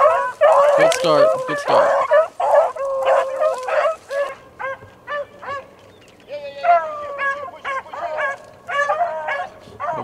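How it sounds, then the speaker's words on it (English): Hunting dogs bay and yelp in a loose chorus while chasing a rabbit during a Virginia rabbit hunt, with repeated cries at mid distance outdoors and a brief spoken remark near the start. "Dogs are getting him straight now."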